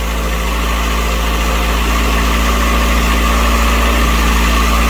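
A Saturn S-series with a rear-mounted turbo engine idles on a cold start, running rich. The loud, steady, low drone holds evenly throughout with a constant hum and no voices.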